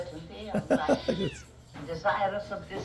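Kittens meow in the 1941 film The Black Cat, several short mewing calls in the first half, then a longer cry near the end, heard under spoken dialogue.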